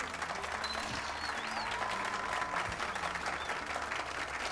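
Audience applauding a singer at a performance, a continuous even patter of clapping from a crowd held at steady volume throughout.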